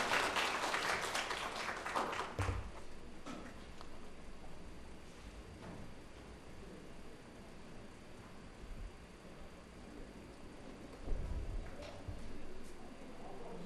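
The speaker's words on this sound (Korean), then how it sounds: "박수 부탁드리겠습니다" At a student mock council contest, applause from a distant hall crowd starts fairly strong, then thins to a faint, scattered patter with a small swell near the end.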